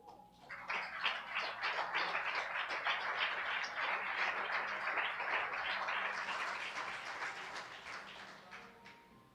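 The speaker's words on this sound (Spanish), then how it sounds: "Denle un aplauso a Jesús." A church congregation applauds, the clapping swelling fast to a dense, sustained round of applause that carries on for several seconds before tapering off.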